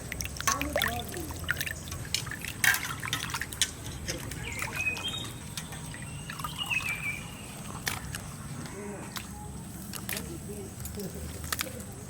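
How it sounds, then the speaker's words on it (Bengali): Freshly cut river fish for a village-style Sonabogo curry is rinsed in water, giving close splashes, drips and trickles. Sparse sharp knocks come through, with a speaking voice and faint birdsong in the background. "মাছটা একবার ধুয়ে নিলাম, আবার ধুয়ে নেব।"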